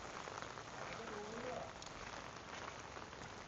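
Steady rain pours down on surfaces in Pattayakudi village, Idukki, a dense continuous hiss of drops with no let-up, close and fairly loud throughout.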